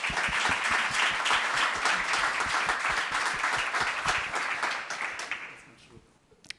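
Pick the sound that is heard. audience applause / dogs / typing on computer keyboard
audience applause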